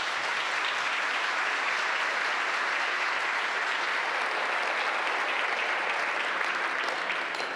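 A forum audience at a City Club Friday Forum in Portland gives sustained, full applause in welcome of the day's guests, loud and even throughout with no break.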